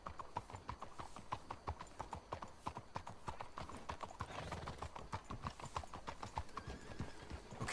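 Horses in Red Dead Redemption 2 trot along with a steady, rapid clip-clop of hooves, close and continuous, with an occasional faint whinny and no talking.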